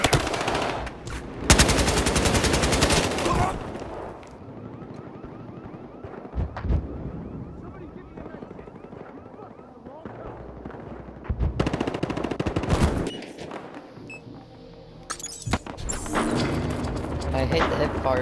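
Bursts of automatic gunfire from hip-firing in Battlefield Hardline come in loud rapid volleys separated by quieter gaps, with heavier stretches at the start and near the end, and a player's voice mixed in.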